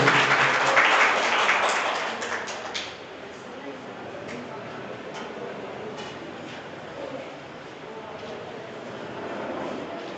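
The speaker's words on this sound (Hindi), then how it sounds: "तालियों के साथ स्वागत करेंगे।" Audience applause greeting guests at an honour ceremony for newly elected representatives, a dense, loud burst of clapping for the first few seconds, then settling into a softer, steady patter with crowd noise to the end.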